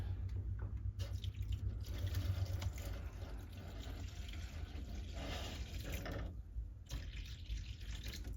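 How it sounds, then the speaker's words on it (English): Water runs steadily from a tap into an egg incubator, a continuous close splashing fill with no talking. "I've just filled up the water."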